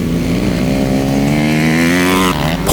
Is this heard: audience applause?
no